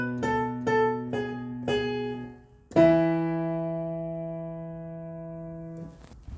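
Piano plays part 4 of the chorus of a song: a few quick repeated notes, then a struck chord that rings and decays for several seconds, close and solo.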